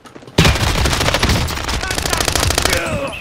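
Loud, close automatic gunfire from the Warzone battle royale game rattles in one sustained, rapid burst lasting about three seconds after a brief quiet start.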